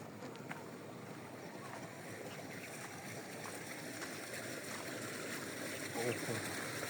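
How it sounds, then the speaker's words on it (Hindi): A tubewell running in a village, pumping water, gives a steady broadband rush of gushing water throughout, moderately loud and constant with a faint voice over it. "ट्यूबवेल चल रहा है तो जाके पानी पीते हैं।"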